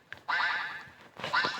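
Two loud, nasal video game duck quacks in quick succession, close and clear with a brief pause between them.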